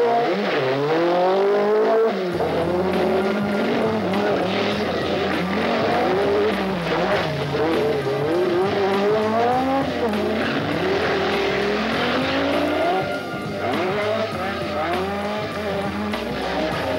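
Peugeot 205 Turbo 16 rally cars race hard on a difficult rally special stage, engines roaring loudly and continuously with rising and falling revs and bursts of tire skidding, alone without talk.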